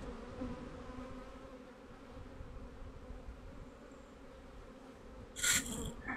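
Honeybees buzz steadily inside a drone-laying hive, a dense continuous hum throughout with a brief louder burst near the end.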